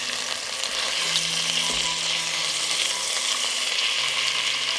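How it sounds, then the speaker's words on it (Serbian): Pieces of chicken fry in oil in a pan, giving a close, continuous crackling sizzle with faint stirring and no talk. "Dok se piletina prži"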